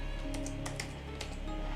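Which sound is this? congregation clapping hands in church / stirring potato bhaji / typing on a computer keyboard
typing on a computer keyboard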